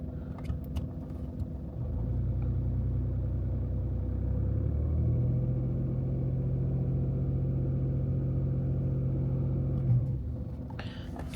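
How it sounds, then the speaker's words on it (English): VW Polo engine idling with a steady, even low rumble close by, holding constant for most of the stretch after a brief start. "My engine is running idle"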